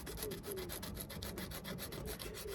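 Sandpaper roughing up a Brompton bike inner tube before a puncture repair, a close, quiet, rapid back-and-forth scratching rub repeated in even strokes throughout, with no talk.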